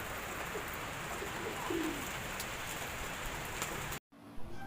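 Faint, low cooing from racing pigeons just returned to the loft, a few soft calls around the middle against steady rain-like hiss on a stormy day, cut off abruptly near the end.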